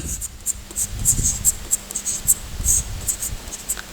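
Chalk or marker strokes on a board during a maths class, heard as repeated short scratchy bursts in an irregular rhythm, close and clear with no talking.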